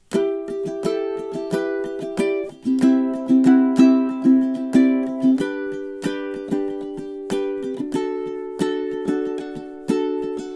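A ukulele strummed in a fast, even double-time strum pattern, bright chords ringing with quick repeated strokes and occasional chord changes, played alone.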